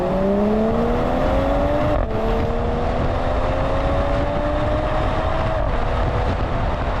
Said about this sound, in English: I get the interesting exhaust bob from the exhaust.